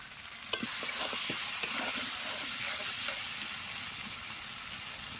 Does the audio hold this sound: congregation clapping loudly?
no